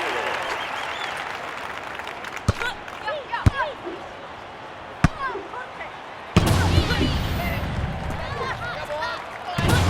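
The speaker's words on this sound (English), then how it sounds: "The crowd go wild and they respond." A crowd cheers and applauds at a London 2012 Olympic beach volleyball match, with sharp ball strikes cracking through a steady roar that surges louder near the end, and a voice talking over it.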